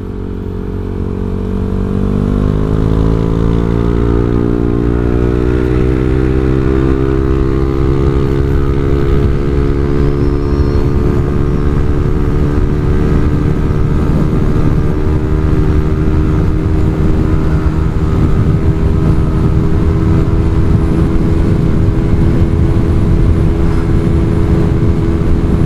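A motorcycle engine revs up through an aftermarket exhaust muffler, climbing smoothly in pitch over several seconds and then holding a loud, steady, throaty drone at high revs.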